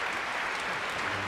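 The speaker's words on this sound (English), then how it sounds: "another round of applause for the middle school band" Audience applause for a middle school band at a school band concert, a brief, steady wash of clapping from a crowd at moderate distance.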